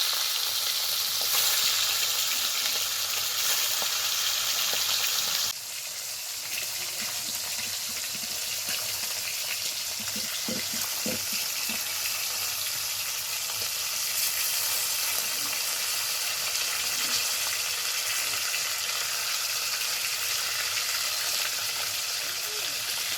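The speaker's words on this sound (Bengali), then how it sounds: "তেল গরম হয়ে গেছে, এবার মাছগুলো ভাজবো।" Hilsa fish frying lightly in hot oil for mustard hilsa, a steady loud sizzle with crackling spatter that runs continuously and close, with a brief dip in intensity partway through, no talking.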